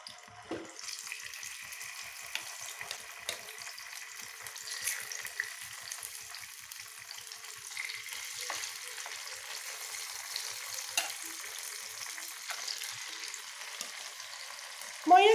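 Fish sizzles in hot oil in a pan on a gas stove, a steady quiet crackle running throughout with a few faint clicks and a louder clatter at the very end.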